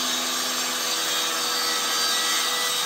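A saw cuts steadily through oak wood, a continuous, close rasping hiss that holds at the same level for the whole stretch, with no voices over it.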